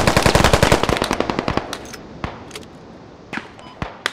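Rapid automatic gunfire in the video game Squad, a dense burst of close shots that thins into scattered single cracks and a couple of distant reports, with no speech.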